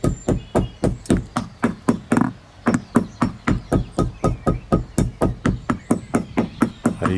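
Hard timber in a listed timber frame struck by a hammer about twenty times in a steady, fast rhythm, each blow a sharp, close knock with a short ringing tail and no talk.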